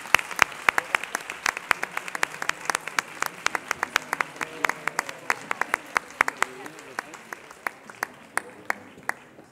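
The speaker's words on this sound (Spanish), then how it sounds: "Un aplauso, por favor." An audience claps steadily for several seconds at a Christmas concert, sharp close claps standing out above the scattered applause.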